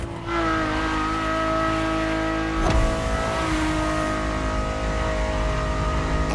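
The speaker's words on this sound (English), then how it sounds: "And the car's voice sounds even better from inside." Ferrari supercar engine heard from the cockpit in The Crew Motorfest, a loud sustained rev with shifting harmonic pitch, a brief sharp burst midway as it changes gear, then continued strong engine roar.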